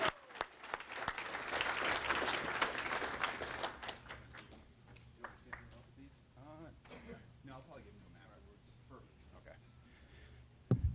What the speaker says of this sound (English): Let's give it a round of applause for Scott Bowlesby.